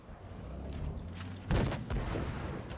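A tank cannon fires in World of Tanks Blitz, one heavy booming shot midway with a rumbling tail and a second thud just after, over a low, constant engine drone.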